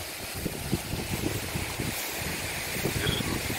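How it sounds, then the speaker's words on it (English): Steady rough wind buffeting against a microphone in a cemetery, a continuous low rumble and gusty roar throughout with no speech. "I'm sorry about the wind. It is very windy today."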